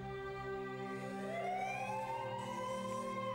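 A siren on an arriving emergency vehicle at a roadside accident scene rises and sweeps upward in pitch. The sound is moderately loud over steady background noise, with no speech.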